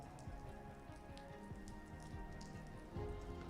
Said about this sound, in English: You can see how heavy the rain is